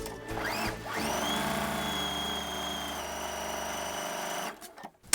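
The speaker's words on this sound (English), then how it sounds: "I can go ahead and put my pieces in through the machine, sewing a 1/4 inch seam allowance" A sewing machine runs steadily for several seconds stitching a quarter-inch seam through quilting fabric pieces, a close, even mechanical whir that stops abruptly, followed by a few small clicks.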